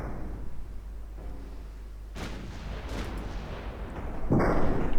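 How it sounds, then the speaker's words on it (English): A torpedo detonation in the naval game Ultimate Admiral Dreadnoughts, a distant booming explosion over a steady low rumble of the sea battle, with further muffled blasts swelling toward the end. "Torpedo detonation."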